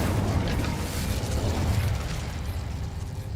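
Spell blasts in Hogwarts Legacy, the Bombarda, Confringo and Incendio casts rolling together into a continuous, loud rumbling wash of booming bursts and crackling pops with no break and no voices.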